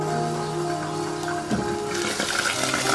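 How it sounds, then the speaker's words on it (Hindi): Water is poured into a pot of Pakistani taro and mutton curry to tenderize the meat: a continuous rushing splash that swells louder in the second half, close and without talk. "अब इसमें शामिल करेंगे पानी हस्बे ज़रूरत इस मीट को गलाने के लिए।"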